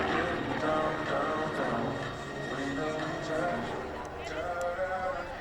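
A Long EZ homebuilt airplane flies at the Greenwood Lake air show, its engine a steady broad drone under a person talking throughout.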